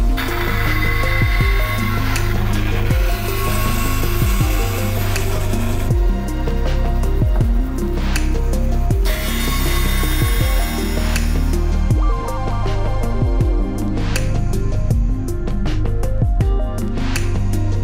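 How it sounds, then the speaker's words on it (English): A bandsaw cuts wooden tenons back to their shoulder lines, giving a loud, steady machine drone with a tonal hum, broken by repeated rasping cuts in quick succession. "Then I can simply realign the fence with that mark and then chop all of these back to the shoulder lines."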